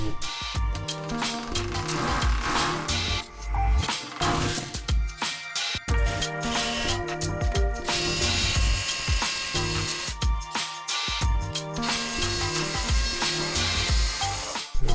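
Power drill boring through an upstairs plaster ceiling toward the attic during a renovation, a loud continuous grinding whine with rough bursts and brief pauses over about fifteen seconds.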